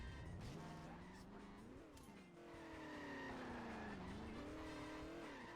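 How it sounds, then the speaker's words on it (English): A car in a racing video game, its engine whining and rising in pitch as it speeds, dipping and climbing with gear changes and brief tire squeal, loud and continuous under faint talk. "That car is speeding around pretty fast."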